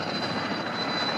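A helicopter hovering during a cliffside rescue, a steady droning engine with a faint high whine, continuous and moderately loud with nothing else heard.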